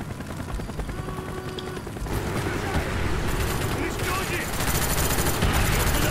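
Rapid automatic gunfire in Call of Duty: Black Ops, a dense, loud, continuous clatter that swells and thickens after the first couple of seconds, with mechanical rattles mixed in.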